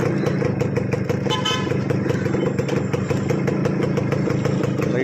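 Motorcycle engine runs steadily at close range, a loud, continuous idle-like burble with a regular throbbing pulse and no talk over it.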